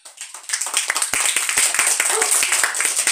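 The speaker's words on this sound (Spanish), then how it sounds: "A ver, Gri, aplauso para ella." A room full of people clapping at a child's sixth birthday party, with dense, rapid, close applause that swells and then holds steady, and voices mixed in underneath.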